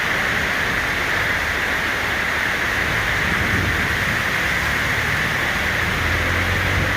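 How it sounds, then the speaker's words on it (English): Heavy rain pours down outdoors as a dense, steady hiss, loud and unbroken throughout, with a faint low rumble underneath. "This shit starts dumping rain like a motherfucker."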